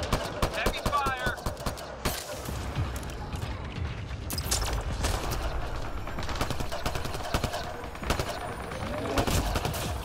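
Heavy gunfire in Mass Effect Andromeda multiplayer: sustained bursts of automatic weapon fire and sharp shots cracking through a busy, dense game mix, loud and continuous, with a voice talking over parts of it.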